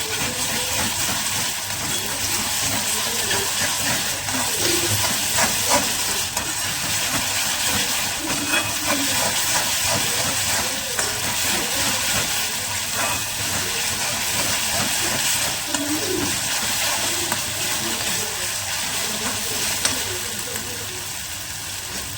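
Chicken frying in a pan over a high gas flame, a loud continuous crackling sizzle that holds steady throughout, close up, with faint talk mixed in.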